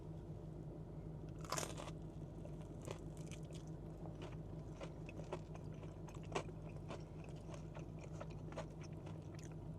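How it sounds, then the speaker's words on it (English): Crispy KFC Saucy chicken tenders coated in Thai sweet and spicy sauce are bitten and chewed close to the mic, giving steady crunching with a few sharper crackling bites, and no one speaks. "You guys hear that crunch? That crunch is serious. These are super crispy tenders"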